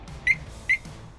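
Two short, high electronic chirps from a Harley-Davidson Pearl Glide motorcycle alarm, evenly spaced and fairly close, with faint background hum between them.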